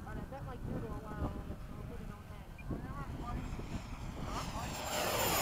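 An F-104 jet begins its takeoff roll in a solo high-speed flight at Bayside, a steady rumbling engine roar that swells toward the end, mixed with radio-style talk.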